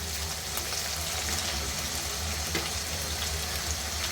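Pre-fried chicken pieces go into a pan of spiced oil for chicken roast, giving a dense, even sizzle that holds steady and close throughout with a few faint crackles.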